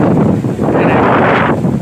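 Wind buffets a microphone outdoors at the annual Phra That Ing Hang temple festival in Laos, making a loud, continuous low rumble that rises and falls in gusts.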